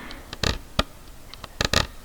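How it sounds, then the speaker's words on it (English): Short scratchy clicks of a fingernail dragged over a ridged radio tuning wheel, a few quick bursts in irregular rhythm, close and fairly quiet. "I'm not actually tuning the radio, I'm kind of just rubbing my nail"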